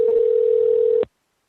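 A steady telephone ringback tone drones continuously for about a second while a call goes unanswered, then cuts off abruptly into silence.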